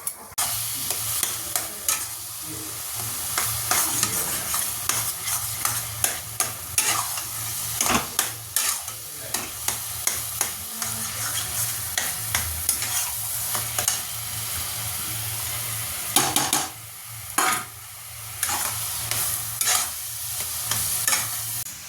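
Sambar being reheated in a pan gives a long run of stirring, with frequent spoon scrapes and knocks against the metal over a low, steady sizzle.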